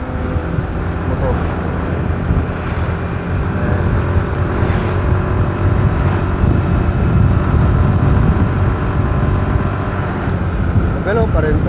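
A Suzuki Burgman Street 125 scooter runs at steady speed on a ride near Tagaytay, its engine drone loud and constant beneath heavy wind rush, with a voice talking over it.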